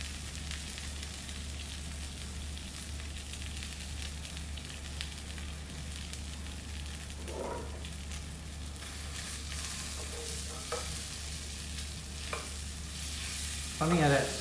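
Salmon pan-frying, with a steady soft sizzle and crackle and a few brief stirring or utensil sounds.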